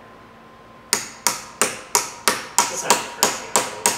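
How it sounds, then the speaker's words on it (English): A hammer strikes a Honda transmission part about ten times in a steady, even rhythm, each tap sharp and ringing, close and loud after a brief quiet start. "take that hammer. This one? Yep. And start tapping down in the middle."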